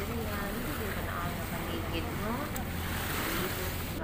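Rough sea surf washing onto a crushed-shell sand beach in Placer, Masbate, with boats pulled ashore; a steady, loud, unbroken roar of waves and wind fills the scene, with faint voices murmuring underneath.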